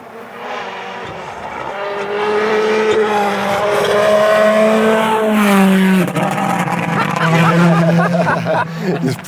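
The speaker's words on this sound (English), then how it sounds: "Another car coming." A WRC rally car approaches and roars past on a stage, engine note climbing and shifting through gears, loud and close, with spectators' chatter and commentary voices underneath.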